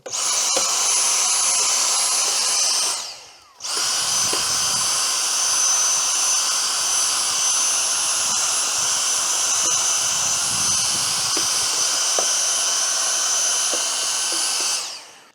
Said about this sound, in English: this is a really good time to hoover all that out